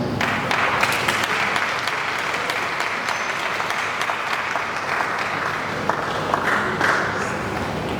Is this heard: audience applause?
yes